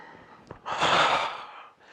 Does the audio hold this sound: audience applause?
no